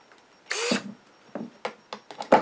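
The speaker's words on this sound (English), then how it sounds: "I've got an inch and a half screw that I'm going to put through for fasten the knob down with" A power drill driving an inch-and-a-half screw into wood, a short whir followed by several brief bursts of drilling and clicking, close and alone.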